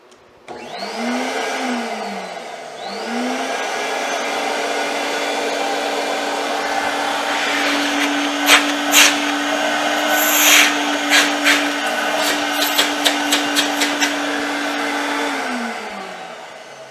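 A repaired Myteelite II 8070 carpet extractor vacuum runs steadily with a loud, even motor whine that rises as it spins up, holds constant, then winds down near the end, with a few clicks and knocks over the hum.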